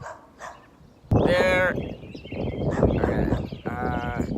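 A dog barks in a few loud, harmonic bursts close by, with quieter muffled sounds between them.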